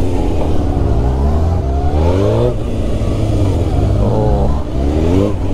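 A 1300cc motorcycle rides through a driving-school course, its engine droning loudly and steadily with repeated rising rev sweeps as it accelerates through maneuvers.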